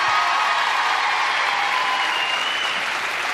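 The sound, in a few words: studio audience applause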